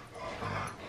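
A dog holding a sock in its mouth gives off soft, muffled whimpering noises close by, steady for under a second.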